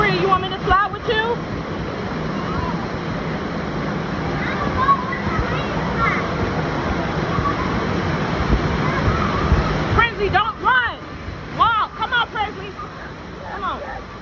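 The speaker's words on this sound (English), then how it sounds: "We're at the water park, y'all." Water rushes and splashes continuously at a busy outdoor water park with waterslides, while children and adults chatter and shout nearby, the voices growing more prominent toward the end.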